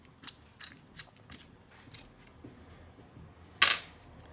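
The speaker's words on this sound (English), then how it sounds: "I'm using a 2B Derwent graphic pencil, which needs sharpening." A 2B Derwent graphite pencil being sharpened: a string of crisp, evenly spaced scraping clicks, then one sharper, louder snap near the end, close and quiet otherwise.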